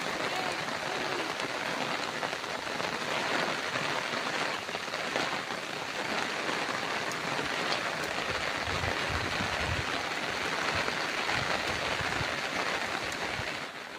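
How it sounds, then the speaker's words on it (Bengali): Heavy monsoon rain pours steadily in a rural Bengal setting near a pond, a dense continuous broadband hiss of drops on surfaces holding at an even level throughout. "প্রচন্ড বৃষ্টি লেগেছে"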